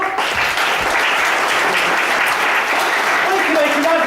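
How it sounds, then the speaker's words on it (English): A group applauds at a lively event, steady broadband clapping sustained throughout, with voices calling out and talking underneath. "give Tom a round of applause to stand up"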